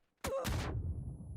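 A grenade explosion in PUBG, an abrupt loud double blast that decays into a rumbling tail within about a second, heard alone.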